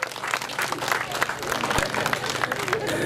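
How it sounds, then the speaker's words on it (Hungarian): Outdoor crowd applauding public workers at a Hungarian village fair in Penyige, steady distant clapping mixed with crowd murmur and babble throughout. "Úgyhogy egy tapsot a közmunkásoknak"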